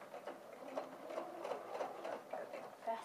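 A sewing machine runs steadily close by, understitching a facing onto the seam allowance along a curve, its even mechanical hum with a faint rhythmic pulse and small speed changes throughout.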